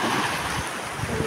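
Sea waves wash onto a beach at Oropesa del Mar in Castellón, Spain, as a steady, loud rush of surf mixed with wind noise, with no voices.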